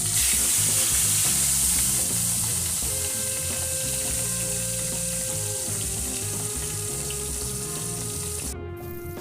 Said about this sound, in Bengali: গরম তেলের মধ্যে এই মাছটা যখন ছেড়ে দেওয়া হয়, এমন সুন্দর আওয়াজটা আমার খুবই ভালো লাগে